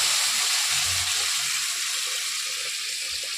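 Boiled lentils poured into a pan of bitter gourd fried with salt, turmeric and radhuni seeds, giving a steady watery hiss and sizzle that stays even and close throughout.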